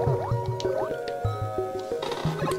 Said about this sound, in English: got a twister thing. Underwater. A whirlpool, if you will.